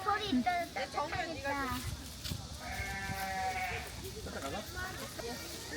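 Sheep bleating in wavering calls, one long drawn-out bleat in the middle, with people chatting around it.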